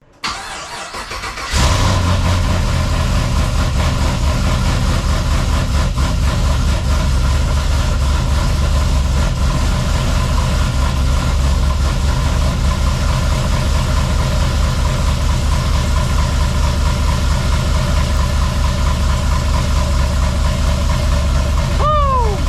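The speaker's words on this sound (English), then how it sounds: "Let's start up this BTR Night Fury cam, long tube header, 3-inch exhaust," A 6-liter LS V8 in a Chevrolet Caprice with a BTR Night Fury cam, long tube headers and 3-inch exhaust cranks and fires, then settles into a loud, lumpy, loping idle that pulses steadily close by.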